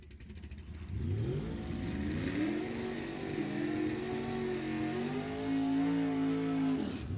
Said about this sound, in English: we got race cars fired up